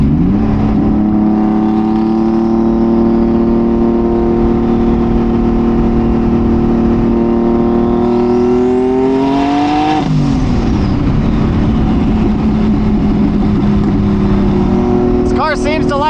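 A Subaru WRX STI with an EG33 engine revs loudly, its pitch climbing steadily as the RPMs rise, then drops and settles into a rough, sustained roar, with some talk under it.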